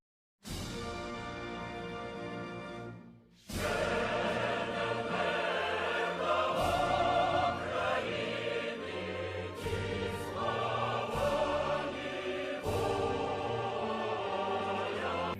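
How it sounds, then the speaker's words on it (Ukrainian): The Ukrainian national anthem plays, with full sustained instrumental chords swelling in steady, stately phrases after a brief pause near the start. "Ось послухайте, як звучить наш державний гімн України?"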